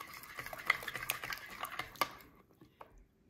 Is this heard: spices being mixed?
yes